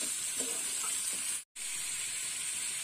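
Potato and pointed gourd pieces sauté in hot oil, a dense bright hiss of frying that runs steadily apart from a momentary cut to silence halfway through.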